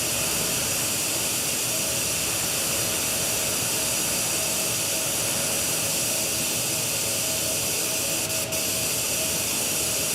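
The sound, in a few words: blower motor running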